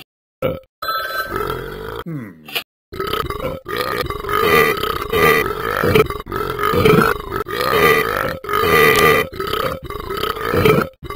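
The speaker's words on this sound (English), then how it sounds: "I'm gonna make Ben burp a million times." Talking Ben, the dog character in the Talking Ben video game, lets out long, loud burps one after another in a steady run, with only brief gaps between them and no talking.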